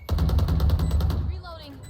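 Rapid automatic Frenzy pistol fire in a competitive shooter game, a quick burst of about eight close, sharp shots in under a second and a half, followed by a short electronic game sound.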